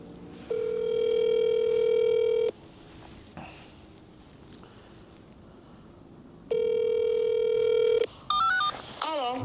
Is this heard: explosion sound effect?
no